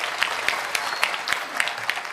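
An audience at a kirtan gathering claps for the parking attendants, a steady, moderately loud wash of applause with a few sharper individual claps poking through.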